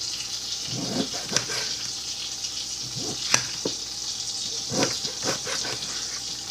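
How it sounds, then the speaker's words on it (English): Eggs cooking in a pan for breakfast burritos, a steady close sizzle with irregular small pops and bubbling bursts throughout. "Now you can hear the eggs bubbling."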